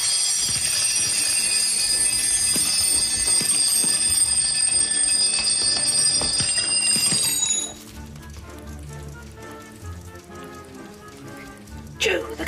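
A room full of alarm clocks rings at once, a dense, loud jangle of bells and beeps that suddenly drops away as most are switched off, leaving softer clatter and a final brief ring.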